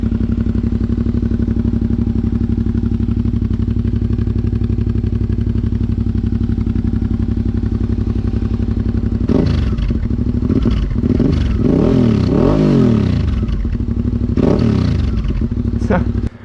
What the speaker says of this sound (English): you can always hear the exhaust